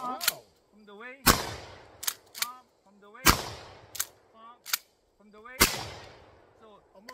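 Three loud, sharp shotgun blasts go off a couple of seconds apart at a shooting range, each followed by the clack of the pump action and brief talk between shots, fired from the hip.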